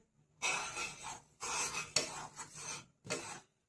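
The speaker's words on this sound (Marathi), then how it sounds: "बघा मी इलायची पावडर टाकते चवीसाठी" A spoon scrapes and clinks against a pot while cardamom powder is stirred into aliv (garden cress seed) kheer made with milk, in several separate rasping bursts with brief pauses between.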